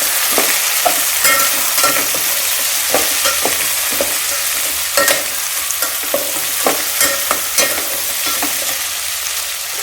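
Vegetables such as pavta beans, potato and peanuts being stirred together in a frying pan for a traditional Bhogi bhaji, a loud steady sizzle broken by repeated scraping strokes of a spoon every second or so.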